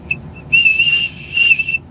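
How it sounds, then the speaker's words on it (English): A small survival whistle, kept with a mini compass in a trucker's pocket kit, gives two short chirps and then two longer, loud, shrill blasts at close range, with no one talking. "And it's another whistle."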